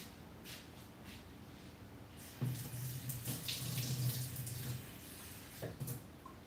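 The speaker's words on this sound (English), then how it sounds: "Non-scientifically just adding water in here." Water pours steadily into a pot of rice for a few seconds, close and moderately loud, with faint clatter before and after.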